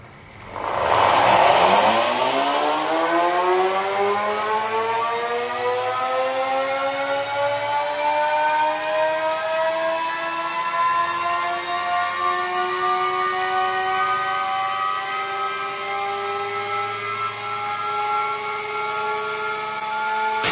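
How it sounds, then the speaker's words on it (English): An Apollo RFN electric dirt bike is run on a dyno, its motor spinning up into a loud rising whine with layered tonal harmonics that climb and then hold steady for many seconds. "we just made a dyno run and smoked this back brake, trying to slow down."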